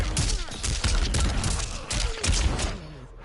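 Rapid bursts of launcher fire and impacts in a Mortal Kombat 1 tournament match, a busy run of sharp thumps and blasts packed close together at moderate volume.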